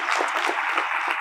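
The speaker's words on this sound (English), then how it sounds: "Come on, give a round of applause to the donors." A brief burst of applause for donors at a community event, a crowd clapping steadily for just over a second.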